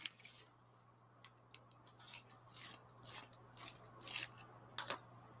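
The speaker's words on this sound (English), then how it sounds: "so let's sharpen" NeoColor II watercolor crayons are sharpened in a series of quick, crisp scraping strokes that grow louder toward the end, close up against a quiet background hum.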